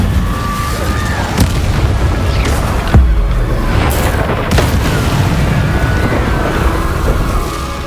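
Incendio fire spells bursting in Hogwarts Legacy combat, several loud booming blasts spread across a dense, roaring battle din with rumbling low end throughout.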